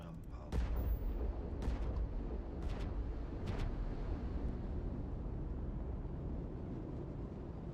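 Gunfire bursts in the video game Starfield as a few sharp, separated shots crack over a steady low rumble.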